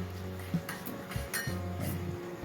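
A spoon clinks against a vessel while stirring Amul milk powder into milk for chhanar payesh, several sharp light taps at uneven intervals over a low background hum.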